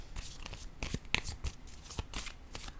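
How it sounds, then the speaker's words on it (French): A tarot card is laid down on a table, with soft papery rustles and light slaps in quick, close bursts, fairly quiet and with no talking. "Je vais déposer une autre carte."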